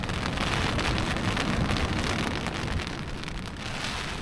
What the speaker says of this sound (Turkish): Güzel yağmur yağıyor.